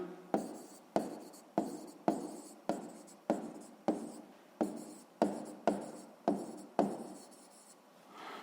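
Pen writing out the value of a math expression on paper, twelve or so short scratchy strokes in a steady rhythm, close and fairly quiet, with no voice.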